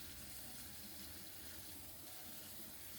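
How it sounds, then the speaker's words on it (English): Jasmine rice being washed under a running tap, a steady continuous rush of water splashing into a sink, fairly loud and close throughout with no talking. "And I'm going to wash the rice"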